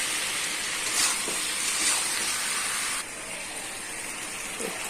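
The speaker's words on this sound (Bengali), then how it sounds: "এটা ভাজাও হবে" Spices and masala with turmeric, cumin and coriander paste and salt sizzling and frying in a pan, a steady close hiss with faint stirring scrapes, no talking.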